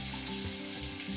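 Onions being sautéed in saved bacon grease for clam chowder, a steady close sizzle under a faint tonal hum, continuous with no talking.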